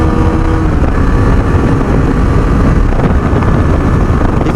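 A Husqvarna Vitpilen 250 BS6 motorcycle roars hard under acceleration at high revs, a loud, continuous engine drone mixed with heavy wind rush, close and unbroken throughout.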